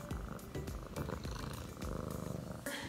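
A cat purrs continuously and close by, a rough rhythmic rumble with no talking, as she reacts to a target wand and clicker brought out for training.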